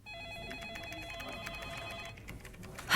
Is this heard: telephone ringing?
yes